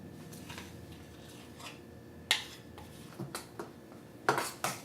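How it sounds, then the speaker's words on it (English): A spoon clinks and scrapes in a bowl while strawberry icing is stirred into buttercream, with quiet irregular taps and a few sharper clatters near the end, soft and close. "we're just going to fold this into the rest of our nice buttercream"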